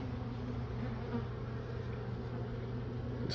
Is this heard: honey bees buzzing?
yes